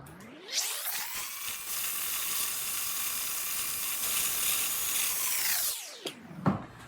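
A mixer churns German butter cake batter made with very soft butter, a steady, fairly loud whirring that runs for about five seconds, then stops, followed by a few light clatters.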